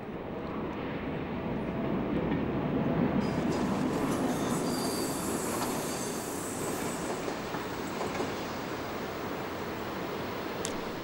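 A Deutsche Bahn class 219/229 diesel-hydraulic locomotive passes with a loud, sustained rumbling roar and rail noise. The sound stays steady and close throughout, with brief squealing from the wheels.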